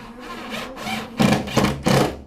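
A screw driven into a Decra metal roof panel makes three short, grinding bursts near the end, following a softer rubbing whir at the start.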